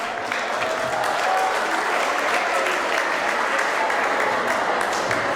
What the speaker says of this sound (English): can we please applaud them for their performance?